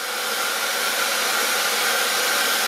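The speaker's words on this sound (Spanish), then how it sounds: "usar un secador de pelo en el modo calor para aplicarle un poco de calor" A hair dryer on its heat setting warms a vinyl sticker on a Xiaomi M365 electric scooter, giving a close, steady whirring blow that holds evenly and then shuts off sharply at the end.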